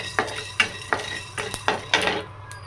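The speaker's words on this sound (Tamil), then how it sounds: "கொஞ்சம் மிளகு கொஞ்சம் சீரகம் நம்ம எவ்வளோ வறுக்கிறோமோ அது தகுந்த மாதிரி வறுத்துக்கணும்" A spoon or spatula stirs and scrapes pepper and cumin as they dry roast in a pan, giving several short, close clinks and rustles in an irregular rhythm over a low steady hum.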